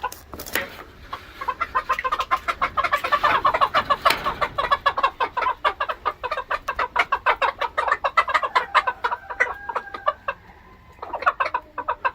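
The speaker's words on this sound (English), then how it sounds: "That's chicken talk for this stuff is awesome." Cochin Bantam chickens cluck steadily in their coop, a dense, rapid run of close, loud clucks with a few short calls, pausing briefly near the end.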